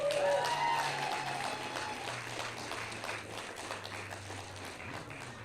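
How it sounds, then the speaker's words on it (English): Crowd applause at an outdoor May Day rally, clapping with scattered voices that fades gradually while a low hum runs underneath. "Everybody give a round of applause for the Workers Center."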